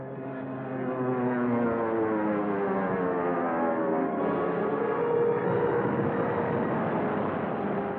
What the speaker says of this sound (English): when 2 planes from Marine Observation Squadron 4 land, it is still under fire